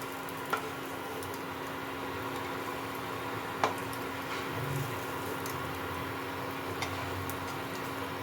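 Pieces of paneer thecha frying gently in a pan give a soft, quiet sizzle beneath a low steady hum, with a few faint ticks and clicks.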